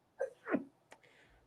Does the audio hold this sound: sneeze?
yes